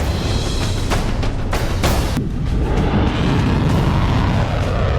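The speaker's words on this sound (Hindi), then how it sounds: "इजराइल के आसमान में रात भर बारूदी धमाके होते रहे।" Explosions over Israel at night during an Iran missile attack, a series of heavy booms and blasts over continuous loud rumbling, several sharp bursts in the first two seconds, with no voices.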